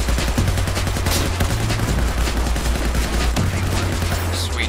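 Gunfire in the video game Battlefield 4, a loud, dense, continuous stream of rapid shots and bursts with no break, like a heavy firefight.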